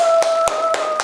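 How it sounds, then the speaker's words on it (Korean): Four sharp, evenly spaced hand claps ring out close by over a faint steady tone, each a quick crisp burst about a quarter second apart. "우선 박수 한번 치고 갈게요."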